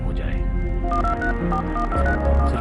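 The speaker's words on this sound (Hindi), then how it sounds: "सिर्फ एक फोन घुमाने से" Telephone dialing tones from a Hindi-language helpline advertisement: short paired electronic beeps in quick succession over steady background music.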